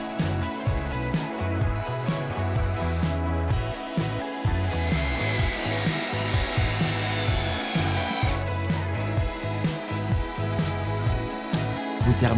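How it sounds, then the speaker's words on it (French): Stainless steel screws being driven with a power screwdriver into the wooden frame of a garden screen, with no pre-drilling or clamping. Close, steady whirring and grinding bursts through the wood run continuously for the whole stretch. "On visse aux extrémités sans préperçage ni serrage."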